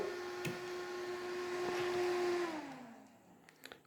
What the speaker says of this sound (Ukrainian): Вентилятор ще працює.